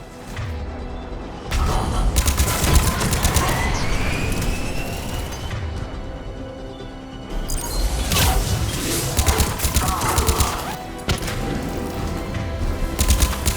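Sustained automatic gunfire and bursts of shooting rattle through a Mass Effect Legendary Edition firefight, loud and dense, with booms and thuds mixed in and brief lulls between volleys.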